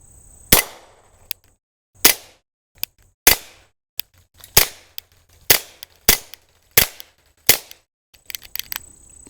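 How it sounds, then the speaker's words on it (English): A GSG Firefly .22 LR pistol fires about ten sharp, loud shots at an irregular pace, each a crisp crack with a short decay, with quiet pauses between and no talking. "let's go ahead and put 10 rounds down range"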